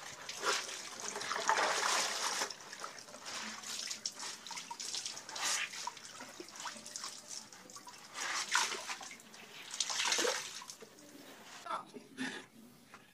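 Bazin fabric being rinsed by hand in water, with irregular splashing, trickling and dripping bursts throughout at close range, some louder sloshes around the middle and near the end.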